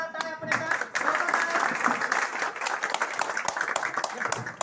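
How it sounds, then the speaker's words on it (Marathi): Audience clapping for a teacher, a former principal, at a school gathering, a dense, steady wash of many hands that continues for several seconds, with voices mixed in. "सरांसाठी जोरदार टाळ्या आपण"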